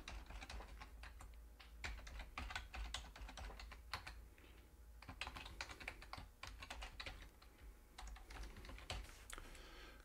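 Steady typing on a computer keyboard while a password is set on a partner portal login page, with continuous clustered key clicks in bursts and brief pauses, close and moderately loud, no voices.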